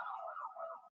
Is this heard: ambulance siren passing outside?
yes